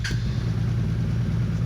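A Honda Interceptor VF500F motorcycle engine runs at a smooth, steady idle, a close, continuous low rumble with no breaks.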